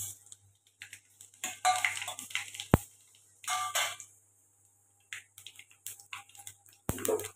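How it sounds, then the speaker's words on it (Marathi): Mustard and cumin seeds with curry leaves crackle in hot oil in a kadhai: irregular bursts of sharp popping and sizzling, close by, separated by short quiet gaps. "राई जिरं जरा तडतडलं की जरा कांदा टाकायचा।"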